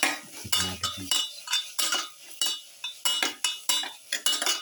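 A spoon stirs tomato pieces into a sauce mixture in a pan for a pepper ginger garlic chicken rice bowl. About a dozen close, rhythmic scraping and clinking strokes, with no voices.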